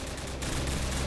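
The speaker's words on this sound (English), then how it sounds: "Heavy enemy fire, heavy enemy fire." Rapid bursts of automatic gunfire in Call of Duty 4 crackle in a dense, continuous fusillade, muffled and fairly quiet, over about a second.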